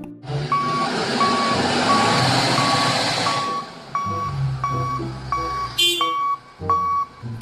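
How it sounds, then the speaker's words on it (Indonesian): A forklift sounds a steady series of evenly spaced reversing beeps over a rumbling engine, with clanking machinery noise near the end. "Di sini ada forklift."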